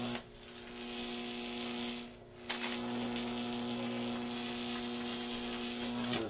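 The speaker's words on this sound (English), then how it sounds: "The arc will still go off, but I can actually manipulate it with the wire and move it wherever I want." A Jacob's ladder electric arc, steered with a wire, gives a steady buzzing hum with a strong mains-like drone, dipping briefly before resuming continuously at close range, with no talk.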